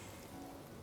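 Soft, steady rain patters faintly in the video game Honkai: Star Rail for a moment.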